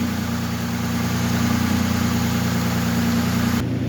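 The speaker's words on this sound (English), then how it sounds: "with the motor running" A 2008 Suzuki Grand Vitara engine idles steadily and close by, a constant low hum with a faint exhaust rumble running nearly the full length before cutting off sharply at the end.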